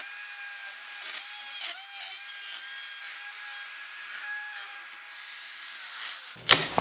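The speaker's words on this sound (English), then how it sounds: "taking the Forstner bit to it first and just hollowing it out a little bit" A Forstner bit in a power drill hollows out plywood, whining at a steady high pitch with a slight dip partway through, then winding down before a short clunk at the end.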